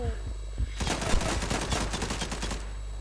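Rapid automatic MPK 76 fire in a Turkish-made shooter game, a dense, loud burst of rounds running steadily for about two seconds after a quiet start.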